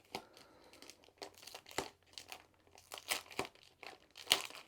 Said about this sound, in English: if we open it up, so it's a resealable bag. So we just gently peel it so we don't rip any holes